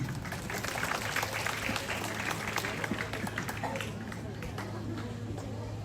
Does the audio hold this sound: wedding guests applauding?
yes